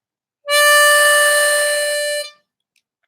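A single drawn note on hole 4 of a diatonic harmonica, held steady for nearly two seconds with a bright, reedy tone, close and loud, then cut off cleanly.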